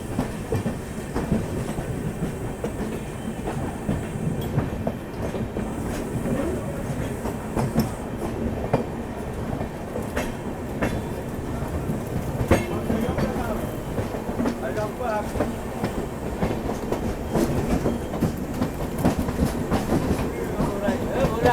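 The Gorakhdham Express runs along the rails with a continuous rattling clatter and rhythmic wheel clicks, steady and close throughout, with faint voices mixed in.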